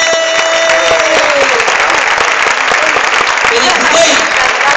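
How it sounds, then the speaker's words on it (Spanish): A Murcia carnival audience claps loudly and steadily, with a crowd murmur and a voice talking over the applause throughout. "os pido un aplauso muy fuerte"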